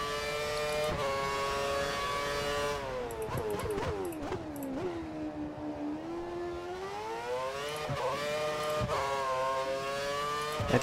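Formula 1 race car engine in the F1 2013 racing game during qualifying at the China circuit, a continuous high-pitched whine that rises and falls with gear shifts, dipping low through a corner before climbing again, loud and steady with no talking.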